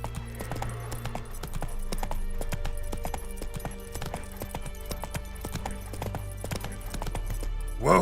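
Geralt's horse Roach in The Witcher 3 trots with clear, rhythmic hoof clops close by, a faint whinny mixed in among ambient game sounds.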